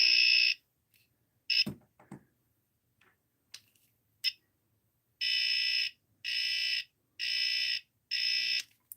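A non-contact voltage tester, used while fixing a studio, gives four loud, even electronic beeps in a steady on-off rhythm near the end, after a few quiet clicks and taps.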